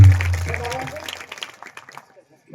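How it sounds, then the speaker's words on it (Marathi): Audience applause at a Marathi kirtan for Sopan Maharaj, a burst of crowd clapping that starts loud and quickly thins out, with a voice speaking at the outset. "हरिभक्तपरायण सोपान महाराजांसाठी जोरदार टाळ्या वाजवायच्या"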